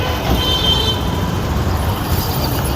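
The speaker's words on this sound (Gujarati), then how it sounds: "રાજકોટ અમદાવાદ પ્રીમિયમ બસ" A premium bus on the Rajkot–Ahmedabad route passes at Rajkot bus station, a steady loud engine drone amid continuous traffic noise, no clear horn or pass-by peak.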